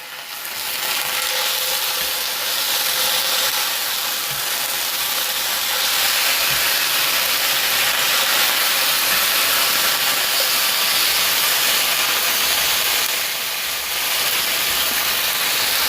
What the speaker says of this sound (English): we're listening for the sizzle here